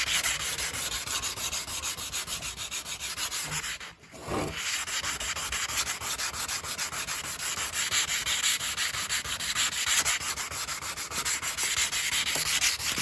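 A saw blade is rubbed down with 220-grit sandpaper in a workshop, giving a continuous, close, rasping scrub with steady back-and-forth strokes and one brief pause early on.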